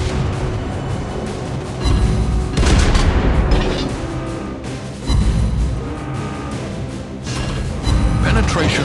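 Tier 10 cruiser Prins van Oranje firing its naval guns in World of Wars, a run of heavy booming salvos recurring every couple of seconds over steady battle rumble, with voices talking throughout.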